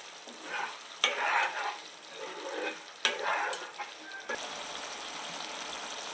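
Salted fish and egg curry with masala bubbling and frying in a pan, a soft continuous sizzle broken by a few stirring swishes, quiet and close, with no talking.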